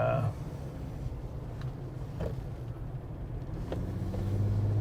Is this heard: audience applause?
no